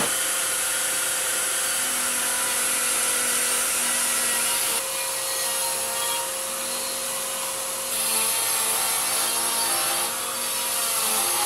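A Panta router cuts a 3-inch mortise in wood, a loud continuous high-pitched motor whine with a steady tone and slight shifts in pitch and level as the bit plunges and moves, with no voices.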